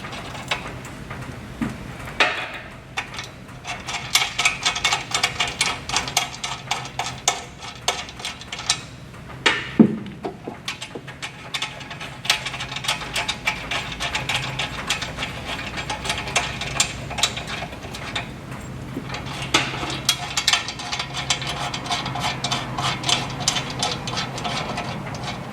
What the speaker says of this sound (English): remove the 4 screws that are in it